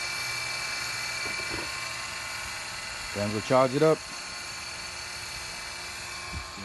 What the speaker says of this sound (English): Putting the vacuum on it right now.